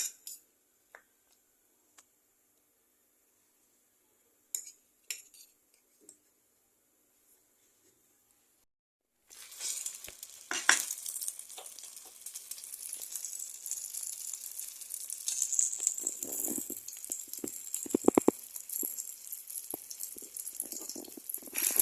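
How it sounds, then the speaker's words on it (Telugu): Chicken shami kababs dropped one by one into hot oil, a steady crackling sizzle that starts abruptly after near silence and holds on with a few sharper pops, fairly close. "ఈ విధంగా అన్నీ వేసుకుని ఫ్రై చేసుకోవాలి."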